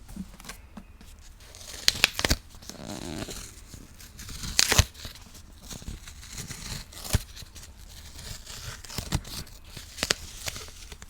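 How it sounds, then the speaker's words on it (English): A price sticker peeled slowly off a book's cover: soft tearing and crinkling rasps, with a few sharper pulls and handling bumps, close and quiet, with no talking. "Let's see if I can peel this sticker off."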